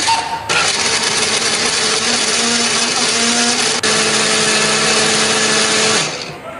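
A blender grinds a spice paste with chopped turmeric and a little oil or water loudly and steadily for several seconds, its whirring pitch shifting slightly midway before it winds down and stops.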